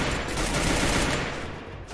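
A rapid burst of overlapping video game gunshots during a firefight in Free Fire, dense and crackling, lasting about two seconds before trailing off.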